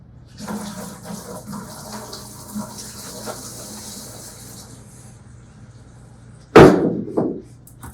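Heavy floodwater from a big rain rushes down a roadside ditch on Main Street in New Albany, with a steady broadband wash, a low constant rumble and a sudden loud surging burst near the end.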